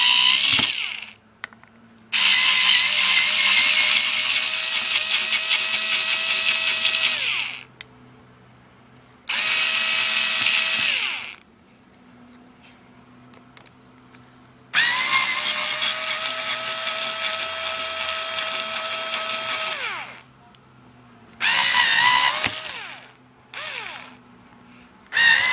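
Power drill or driver backing screws out during a teardown of a rare Maytag appliance, several loud whirring runs of a few seconds each separated by short pauses, close and alone.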